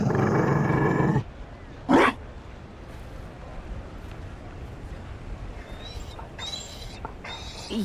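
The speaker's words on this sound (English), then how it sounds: "You found a dog?" A Mabari war dog in the video game Dragon Age: Inquisition gives a short, loud growl over a steady ambient hum, with a brief burst of noise before it and faint sounds trailing after.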